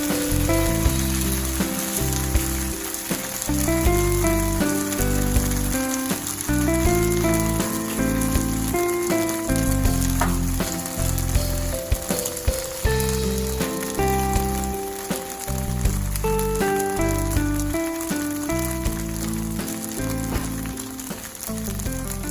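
Grated potato and egg pancake sizzles steadily in a frying pan, a continuous crackling fry heard under background music throughout.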